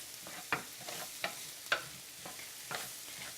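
Chopped onion frying in a pan on a stovetop, a faint low sizzle punctuated by about five sharp spatula knocks and scrapes at irregular intervals.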